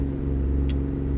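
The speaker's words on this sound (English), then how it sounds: "It's got a 14-liter Detroit, same thing as this one, although, you know, this one obviously sounds a bit different" A truck's 14-liter Detroit diesel engine idles steadily with a loud, deep, continuous rumble, alone with no voices.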